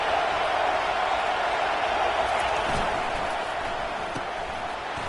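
A football stadium crowd at an LSU versus Texas game roars steadily and loudly as fans try to fire up the defense for a red zone stop. The dense wash of cheering holds without a break.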